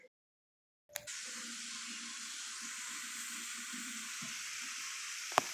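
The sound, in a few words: beef cooking down in a pan for tacos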